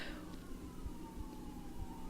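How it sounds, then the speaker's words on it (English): Emergency vehicle sirens passing outside, a faint wailing tone sliding in pitch in the background, heard distantly under a low hum with no talk. "Ooh, sirens."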